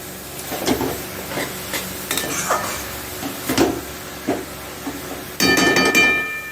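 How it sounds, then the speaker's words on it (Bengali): Cabbage frying in a pan is stirred with a utensil, giving irregular scrapes, clanks and knocks against the metal over a soft sizzle, then a louder burst of frying near the end. "পাঁচ মিনিট পর কপিটাকে একটু নাড়িয়ে দেবো ভালো করে"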